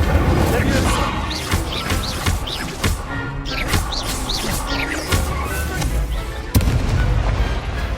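A fire spell cast in the Hogwarts Legacy video game, heard as loud, dense crackling bursts and sharp booms that recur through a busy battle mix, with a voice calling out.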